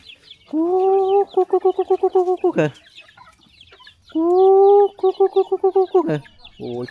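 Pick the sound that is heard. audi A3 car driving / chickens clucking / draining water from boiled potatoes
chickens clucking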